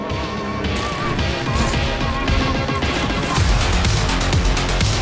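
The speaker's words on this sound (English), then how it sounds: "This is Velstadt, right hand of the king and master of smashing that goddamn bell." Velstadt, a boss in Dark Souls 2, smashing a large bell, heard as repeated loud, dense crashing impacts with clanging metallic overtones over a continuous game soundtrack, no talk.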